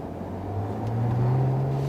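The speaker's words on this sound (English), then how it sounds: "So let's go for a drive on the A87 with the Maserati Quattroporte." 2015 Maserati Quattroporte cruising on the A87, a low steady engine hum from inside the cabin that swells slightly partway through, fairly quiet overall.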